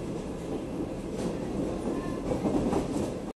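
A passenger train on the Buenos Aires al Pacífico line toward Dr. Cabred rumbles steadily from inside, with rhythmic wheel clatter and a brief faint squeal.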